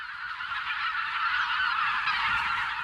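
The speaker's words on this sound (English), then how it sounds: "The wild geese are back." A large flock of wild bean, white-fronted and greylag geese honks in late March, a loud overlapping chorus of calls that carries without pause across the whole stretch.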